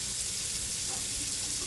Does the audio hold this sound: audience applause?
no